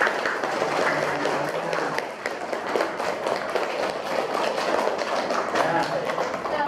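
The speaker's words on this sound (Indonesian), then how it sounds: "Supaya lebih semangat, beri tepuk tangan ya." A seventh-grade class claps hands together in a classroom lesson: moderately loud, crisp clapping with distinct individual claps that carries on steadily for several seconds.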